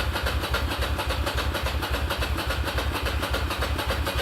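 A Ducati Monster cafe racer motorcycle engine runs loud and close, a fast, even pulsing beat that holds steady throughout with no voices.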